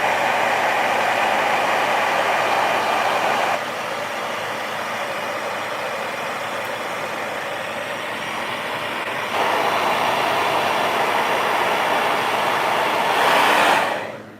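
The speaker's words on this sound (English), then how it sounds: "I'm gonna hit this real quick with the dryer." A hair dryer blows on a wet watercolor painting of a Christmas gift box, giving a steady, loud airy whir for several seconds. Its intensity shifts as it moves nearer and farther, and it stops abruptly at the end.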